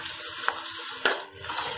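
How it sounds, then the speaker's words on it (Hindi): Water pours into a pan of mixed vegetables with paneer, a steady close splashing gush with a couple of brief clinks, loud and alone without speech. "अब मैं थोड़ा सा पानी आपको ऐड कर देती हूँ"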